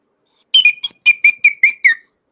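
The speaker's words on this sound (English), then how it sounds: "The saliva whistle." A person whistles through saliva, producing seven short, bright, bubbly whistle bursts in quick rhythmic succession, close and fairly loud, with no talking.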